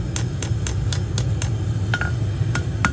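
A hammer strikes a hot steel hook on an anvil about a dozen times in a steady, fairly quick rhythm, each tap a bright metallic ping heard up close.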